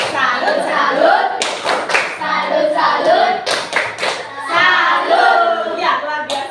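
A fifth-grade class in Indonesia claps a rhythmic group cheer, sharp hand claps in bursts mixed with children's voices chanting along together, loud and close.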